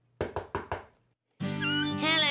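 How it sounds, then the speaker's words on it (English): Four crisp knocks at a door land in an even rhythm, then after a brief gap a sustained tonal cartoon voice or music takes over. "he heard a knock at the door"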